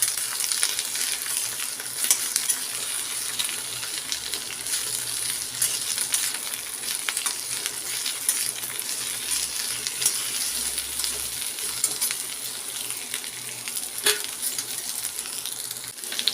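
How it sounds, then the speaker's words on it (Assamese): Mixed vegetables of bitter gourd, okra, French beans and potato frying in a pan with steady, close sizzling and a spatula scraping and stirring throughout, no voices. "আৰু এতিয়া খুব ভালদৰে মই লৰাই ল'ম"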